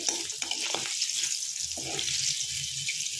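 Pabda fish fry in hot oil, a steady, bright sizzle throughout, with a few scraping stirs near the start.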